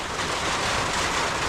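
Rain pours heavily and steadily, a loud, dense, unbroken hiss of falling water with no voices.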